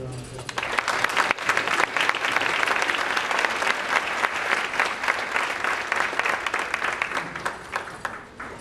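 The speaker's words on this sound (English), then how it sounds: "So I'd like to give him a round of applause." A school audience at a senior awards night breaks into sustained, dense applause that swells and holds for several seconds before tapering off.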